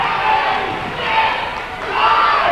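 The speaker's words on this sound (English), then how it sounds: "You can hear the crowd in the background." Crowd noise fills a gym during a 1998 girls' basketball championship between Sterling and Gloucester City, a steady murmur of voices and cheering swelling and easing over a few seconds, with no clear speech.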